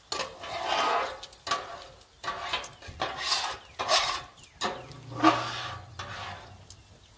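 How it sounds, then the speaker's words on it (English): A metal scraper pushes bacon grease across a Blackstone griddle in about eight rhythmic, rasping strokes, each a loud close scrape separated by brief pauses. "I'm just going to scrape the oil off, or the grease off from the bacon."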